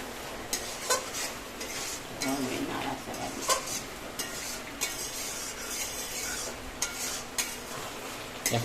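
Rohu fish pieces with raw pumpkin and spices being stirred in a pan, repeated spoon scrapes and knocks over a low sizzle, close and fairly even throughout.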